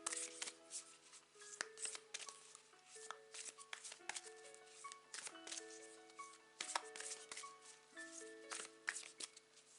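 Tarot cards being shuffled in repeated soft riffling bursts, with faint background tones and no talking.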